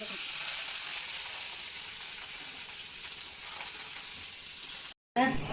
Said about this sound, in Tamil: சோம்பும் ஜீரகமும் வெடித்த பிறகு வெங்காயமும் கருவேப்பிலையும் போட்டு வதக்கணும்.